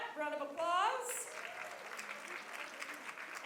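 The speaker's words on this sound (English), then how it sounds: "Round of applause." Brief spoken voice followed by an audience applauding at a women's reception, the clapping moderately distant and sustained, softer than the opening voice.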